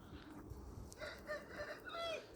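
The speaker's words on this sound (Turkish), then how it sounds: "Başlarında da dört tane horozumuz var." A rooster crows in the distance, a faint drawn-out call over a quiet outdoor background.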